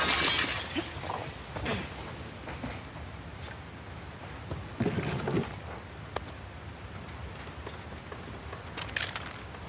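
Glass shatters in The Last of Us Part II, with a sharp crash at the start followed by scattered tinkling breaks and crunches at moderate loudness over quiet game ambience.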